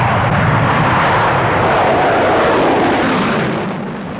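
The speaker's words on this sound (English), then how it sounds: "There's so many planes, you actually wouldn't go out and watch them, would you?" Aircraft near a US forces base in Britain in 1969 fly low overhead, a loud, continuous rumbling roar that holds steady and begins to fade toward the end, heard alone with no talking.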